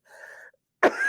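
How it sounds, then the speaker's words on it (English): A single loud, close cough bursts out sharply after a faint breathy lead-in, then trails off into a rough, raspy tail. "I'm going to cough here"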